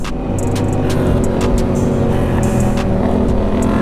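A sport bike engine revs hard and steadily while the rider pulls a wheelie on a road, a loud, continuous mechanical roar that holds its level throughout with no break.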